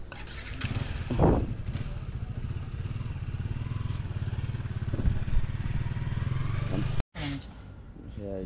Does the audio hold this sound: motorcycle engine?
yes